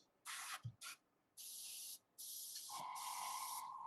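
Aerosol spray can hissing paint onto a statue in short bursts, then a longer steady spray, close and fairly loud with brief gaps between.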